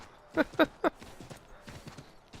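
Horse hooves clip-clop in Assassin's Creed 3 Remastered, a video game: three distinct, evenly spaced hoofbeats stand out clearly, followed by fainter steps over a soft background.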